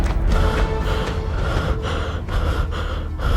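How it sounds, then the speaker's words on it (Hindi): Heavy, loud panting close to the listener: rapid, ragged gasps for breath from a man who has just fled and fallen on stairs, repeating rhythmically throughout. "हांफते हांफते"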